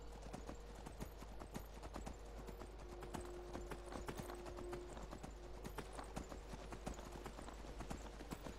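Horse hooves clip-clop steadily along a road in the video game Skyrim, a continuous rhythmic trot over low ambient game sound with a faint sustained tone, no talking.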